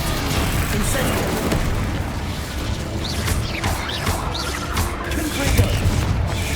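Fire and blast spells crackle and burst in Hogwarts Legacy combat. Dense, rumbling bursts and mechanical clatter repeat in quick succession throughout, with a player talking over them.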